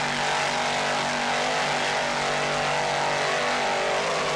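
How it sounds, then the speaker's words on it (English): Powerful Frank Marine 550-horsepower inboard engines on a 33-foot racing powerboat roar steadily at high speed at the 1995 Jacksonville Grand Prix, a constant loud drone with a buzzing tonal whine and rushing noise. "Frank Marine inboards sound excellent."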